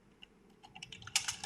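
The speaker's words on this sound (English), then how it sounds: "Now I'm just typing free shipping overall the country." Fingers tap quickly on a computer keyboard, starting with sparse, quiet clicks that build into a denser, louder burst of keystrokes near the end.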